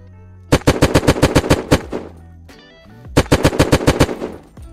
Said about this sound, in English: there's people shooting over there